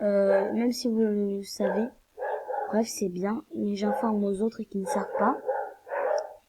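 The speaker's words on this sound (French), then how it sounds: "désolé pour ce bruit à cause des chiens là qui sont dehors" Dogs bark outdoors in the background, faint and intermittent beneath someone speaking steadily close by.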